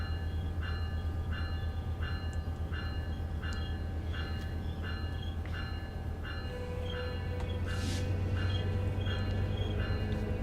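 A train on the Antelope Valley Line in Train Sim World 4 rolls steadily with a constant low rumble, a regular chiming signal pulsing through the first half and a brief hiss near the end.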